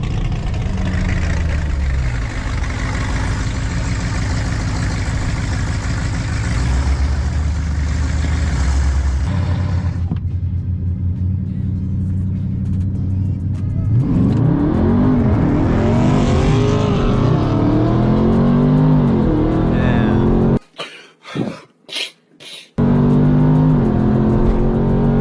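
Dodge Charger 392 Scat Pack and cammed Camaro SS dig racing: loud idling and revving engines build into a hard launch with a roaring acceleration pass, followed by wind-buffeted bursts near the end.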